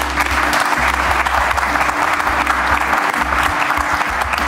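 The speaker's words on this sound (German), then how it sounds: "Applaus." A studio audience at a German talk show breaks into steady, sustained applause, a dense wash of clapping that stays loud and even throughout, with no speech on top.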